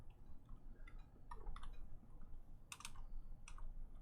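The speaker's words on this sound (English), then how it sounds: "Typing's hard." Keys clicking in short irregular bursts on a computer keyboard, fairly faint and close, with pauses between flurries and no talk over them.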